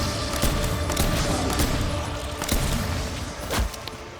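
Hand cannon fire in the video game SWAT 5.56, a dense barrage of sharp gunshot cracks repeating over constant game noise, with several louder bursts standing out.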